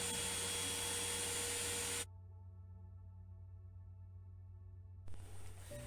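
An Ozito 18 volt cordless shop vacuum runs with a loud broadband whoosh that cuts out abruptly, leaving a quiet tonal hum before the motor roars back near the end.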